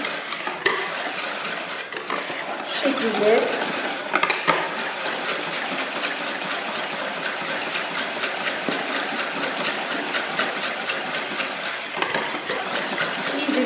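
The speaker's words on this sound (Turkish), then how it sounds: "ben size ses olmasın diye el mikseriyle yapıyorum" Steady whirring and rattling of a hand mixer whipping cream in a bowl, continuous and fairly loud, with a brief spoken phrase near the start.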